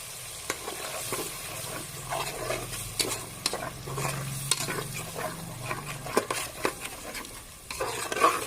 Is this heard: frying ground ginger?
yes